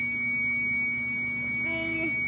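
A Fire-Lite MS-9200 fire alarm panel sounds a steady electronic buzzer tone, loud and close, with a brief higher chirp near the end.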